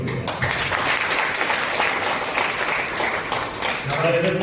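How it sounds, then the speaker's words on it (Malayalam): An audience claps together for an honoured guest at a silver jubilee celebration, a dense, sustained round of applause filling the whole stretch without letting up. "അദ്ദേഹത്തിന് നമുക്കെല്ലാം ചേർന്നൊരു ബഹുമാനത്തിന്റെ കയ്യടി"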